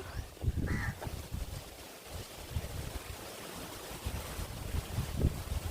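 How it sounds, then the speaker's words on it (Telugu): Strong wind gusts outdoors beside a wood-fired stove where snacks are being fried, a loud, continuous rumbling buffet against the microphone with rustling bursts throughout. "గాలి చూడండి ఎలా తోలుతుందో"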